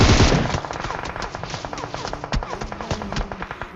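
Rapid automatic gunfire in a battle royale video game during a ranked match, a fast run of close, sharp shots in steady rhythm after an initial loud burst, with no talk.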